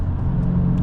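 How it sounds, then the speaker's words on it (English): Road traffic rolls past as a continuous low rumble and whir of car engines, loud and close throughout a brief moment with no talking. "Man, we got traffic today."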